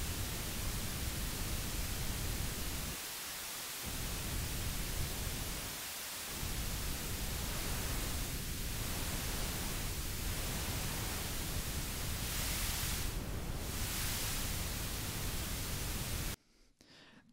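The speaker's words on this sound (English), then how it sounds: "I'll go ahead and demonstrate just using some pink noise" Steady broadband hiss of pink noise, loud and continuous, with brief dips and a few shifting filtered sweeps before cutting off near the end.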